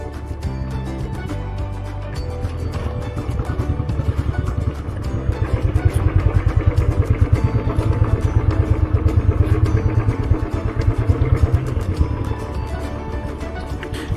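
A motorcycle rides slowly along a snowy mountain road near Parashar Lake, its engine a steady close thumping drone with clattering, swelling louder through the middle before easing off.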